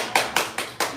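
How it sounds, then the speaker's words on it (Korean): An audience at a lecture applauds at the close of the talk: four sharp, evenly spaced claps stand out clearly over a quiet room, with no voices. "박수 보내주시면"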